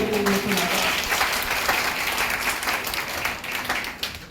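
Audience applause at a World Hindi Day celebration in a medical college in Patna, Bihar: dense, sustained clapping from a crowd, steady and loud throughout, with faint voices mixed in.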